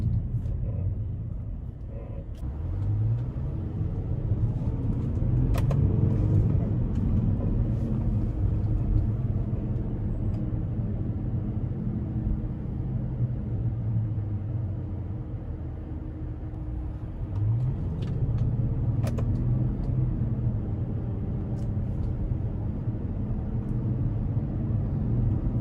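A twin-turbo W12 Bentley Flying Spur Speed accelerates hard, heard from inside as a deep, steady engine rumble that rises in pitch twice as the car gains speed, with occasional faint clicks.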